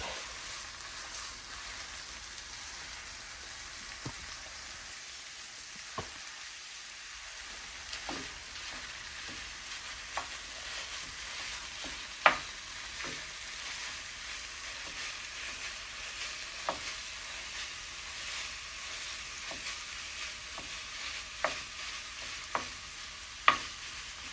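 Meat browning in a pan while being broken up with a utensil: a steady soft sizzle with irregular light clicks and scrapes spread across the stretch, fairly quiet and without talk.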